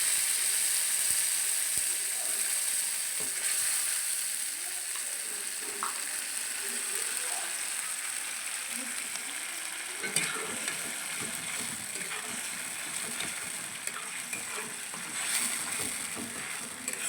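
Spice paste frying and being stirred in a pan for Bengali potol chingri (pointed gourd with prawns), a steady close sizzle with scraping stirs and occasional clinks throughout.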